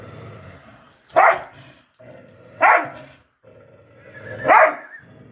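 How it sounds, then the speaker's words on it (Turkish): A dog gives three sharp, separate barks with pauses between them, close and fairly loud over a low rumbling background. "Bu gerçekten çok fena bir köpek olacak"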